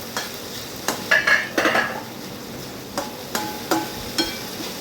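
A spoon scrapes and knocks through banana flower curry cooked with tamarind in a pan, a series of irregular stirring clacks over a low simmering hiss.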